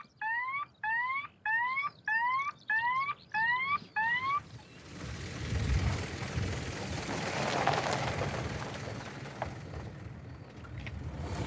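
A remote-controlled bird-scaring device at Orly Airport emits a loud electronic warbling sound pulsing in seven rapid repeated bursts, then a rushing, noisy hiss that swells and fades.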